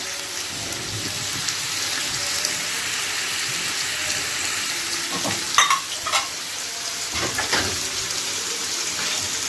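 Shawarma and sausage fry in corn oil in a pan with a dense, continuous sizzle and a few clinks of utensils, close and steady.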